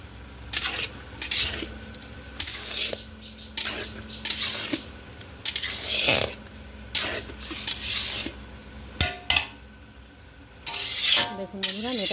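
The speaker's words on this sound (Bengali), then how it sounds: "কালারটা ভালো করে আমি এর মধ্যে মিশিয়ে দেবো, তাহলে পোলাওর কালারটা ঠিকঠাক চলে আসবে" A metal spoon scrapes and clinks against a pot while food colour is stirred into pulao rice, with irregular close knocks and scraping strokes, and a voice speaking at times.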